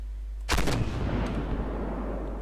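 An M109 self-propelled howitzer fires in Armoured Warfare, one sharp, loud cannon blast followed by a rolling rumble that fades out over a steady low engine hum.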